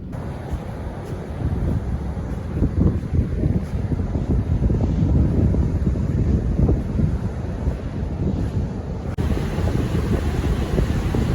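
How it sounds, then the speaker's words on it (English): Strong wind on the Oregon coast buffets the microphone with steady low rumbling gusts, loud and continuous, with a faint wash of surf beneath. "I know it's windy as hell,"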